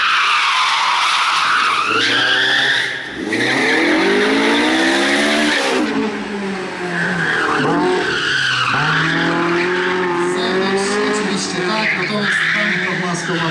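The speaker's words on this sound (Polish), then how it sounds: "Silnik od Honda jest 2000, ponad 200 koni, wysoko obrotowy" A high-revving two-litre, 200-plus horsepower Honda-engined rally car screams and rises in pitch over and over at a rally in Koszalin, with tire squeal and loud voices talking over it throughout.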